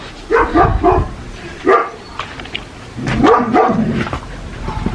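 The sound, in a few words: dog barking at another dog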